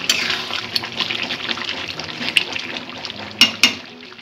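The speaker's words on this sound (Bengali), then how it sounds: "এবার আমি এর মধ্যে উষ্ণ গরম জল দিয়ে দেব।" Warm water poured into a pot of simmering chicken and potato curry, a steady liquid rush and bubbling hiss with a couple of sharp clinks near the end, close and moderately loud, no talking.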